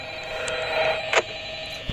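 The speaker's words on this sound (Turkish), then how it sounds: "Aç telefonu ben seni susturmayı bilirim." A telephone rings in a Five Nights at Freddy's style video game, with a short electronic ring burst over a steady background hum and a soft thud near the end.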